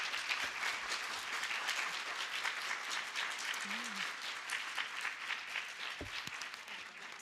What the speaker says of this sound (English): if we can just take a moment to give them a round of applause.